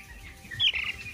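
Young turkey poults from a farm store peep in a short, shrill flurry of high chirps, close by, rising briefly over a quiet indoor hum.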